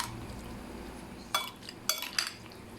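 Julienned chicken being mixed with salt and black pepper in a bowl, heard as three short clinking, scraping strokes over a soft background hiss.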